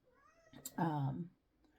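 Domestic cat meowing nearby indoors, one drawn-out meow preceded by a short chirp, moderately loud and heard without talk.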